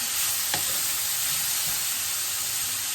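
Beef pilau stirred in a pan over high heat with little oil, a steady loud sizzle with scraping spoon strokes running throughout.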